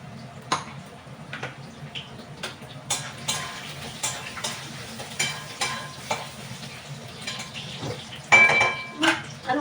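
Potatoes frying in a pan for a home lunch thali, a steady close sizzle with intermittent scrapes and clinks of a utensil stirring against the metal, no talk over it.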